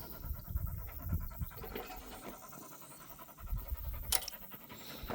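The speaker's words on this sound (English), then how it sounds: "He's panting a lot" A dog pants outdoors on a walk beside a road, breathing fast and rhythmically close by, with faint scuffing and wind in the background.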